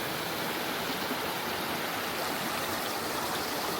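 A river in Jamaica rushes steadily and fairly loudly nearby, a dense unbroken roar of flowing water with no voices over it.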